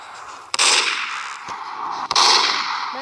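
Gunfire in a video game: two sharp, loud shots about a second and a half apart, each followed by a sustained bright burst of noise, with no talking.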